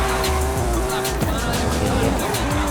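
A racing car in Forza Horizon 5 revs loudly up close, the engine pitch climbing and dropping through gear shifts, with brief tire squeal.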